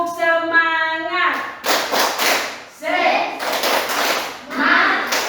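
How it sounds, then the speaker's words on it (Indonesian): Schoolchildren in a classroom perform the rhythmic 'tepuk semangat' clapping chant, loud bursts of group claps mixed with chanted voices, following a teacher's brief spoken lead. "Tepuk semangat."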